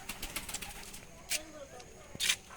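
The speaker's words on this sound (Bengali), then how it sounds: "আপাতত এটার ভিতরে কবুতর আছে" Pigeons coo inside a school room, soft low calls recurring in short bursts amid sharper bright chirps and faint background voices.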